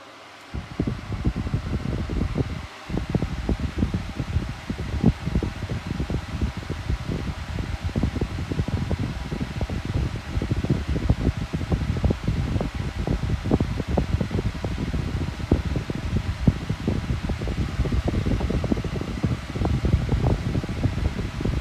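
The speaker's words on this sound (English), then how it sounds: "let's switch this fan on, start it on the low speed" A 1980s Salton Turbo 9-inch desk fan running on its low setting, a close, steady airy whoosh with a fast fluttering buffet of wind against the microphone, sustained evenly after a brief start.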